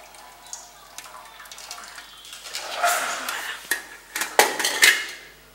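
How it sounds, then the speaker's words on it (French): Vegetables being rinsed in water in a home kitchen, with splashing and trickling that builds in the second half alongside clinks of a pot or bowl, close and moderately loud; no speech. "Nous on rince les légumes."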